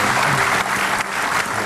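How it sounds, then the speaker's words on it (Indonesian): A studio audience at an Indonesian TV talk show breaks into loud, sustained applause, dense clapping filling the whole short stretch. "Kita berikan tepuk tangan dulu untuk Pak Fadli."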